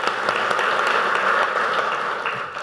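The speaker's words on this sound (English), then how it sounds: "Let's give another round of applause to the speaker" Audience applause after a talk on domestic terrorism by Dr. Bruce Hoffman: a steady wash of clapping from a crowd, moderately loud and sustained, tapering slightly at the end.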